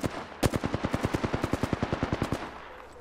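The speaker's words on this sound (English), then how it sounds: "Taking fire." Rapid automatic gunfire in the shooter Apex Legends, about twenty evenly spaced loud shots in one sustained burst that rattles on for around two seconds before trailing off.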